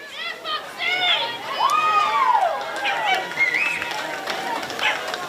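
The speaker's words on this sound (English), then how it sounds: "listen to the crowd. They're fired up to welcome out the Division 3 Eastern Devils side" A women's Australian football crowd at a Division 3 Eastern Devils vs Whitehorse match cheers and shouts loudly as the side runs out, with high whoops and children's shrieks over a steady roar of chatter.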